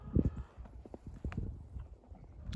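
A retired racehorse walks through snow, its muffled hoofbeats thudding close by in an irregular, soft rhythm with little else around.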